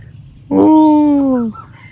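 A rooster crows once in a quiet mountain setting, a single drawn-out call of about a second that rises sharply and then holds steady, fairly close and clear over faint background noise.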